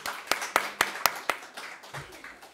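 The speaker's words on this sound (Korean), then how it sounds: "박수!" A small group claps about seven times in an even rhythm during a church teaching session, the claps close and crisp before fading into a quieter patter.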